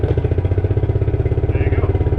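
A Suzuki King Quad 300 4x4 ATV engine idles steadily just after a rope start, with a close, even, thumping pulse throughout and a faint voice in the background.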